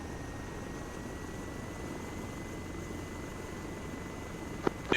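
A helicopter lifts off in the Arma 3 video game, giving a steady, even rotor-and-engine roar that holds level throughout, with a couple of sharp clicks near the end.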